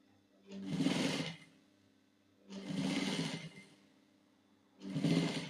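A sewing machine stitches quilt binding in three separate runs of fast, steady whirring and needle chatter, each about a second long and separated by quiet pauses, close by and alone.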